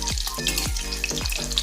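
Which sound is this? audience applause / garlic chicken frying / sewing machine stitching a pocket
garlic chicken frying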